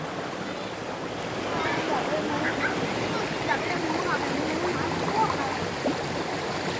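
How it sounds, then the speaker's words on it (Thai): Ta-Yai waterfall at Khlong Maduea, a campsite setting, rushing in a steady broadband roar of falling water that holds constant throughout, with faint voices beneath it. "ตอนนี้อยู่ที่ น้ำตก ตา ยายนะ ฮะ"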